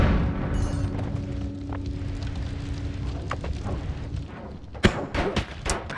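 Spell explosions in the video game Noita, a few muffled booms and thuds at moderate level, with a rapid burst of sharper blasts clustered near the end.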